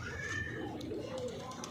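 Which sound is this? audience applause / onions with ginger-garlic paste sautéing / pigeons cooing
pigeons cooing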